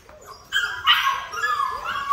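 Newfoundland puppies in crates whimper and let out short yips and barks, a few high, thin cries close by over a quiet room.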